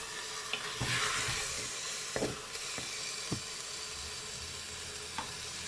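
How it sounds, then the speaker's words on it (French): Beef browning in a Cookeo multicooker, a steady soft sizzle and hiss with a few stirring scrapes and clicks, fairly quiet and close, no talk. "Vous voyez, ça commence à griller."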